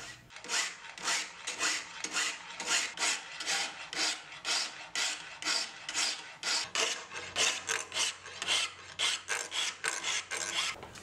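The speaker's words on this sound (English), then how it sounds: "To grind the bevels, I'll be using a simple jig, which is essentially a guide for a 12-inch bastard file." A 12-inch bastard file guided by a jig rasps across knife bevels, a steady series of about thirty close, dry scraping strokes in an even back-and-forth rhythm with no talking.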